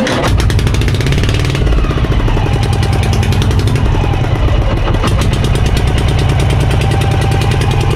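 A boat engine runs loud and close with a hard, rapid chugging rattle, holding a steady throbbing pace throughout with no pause.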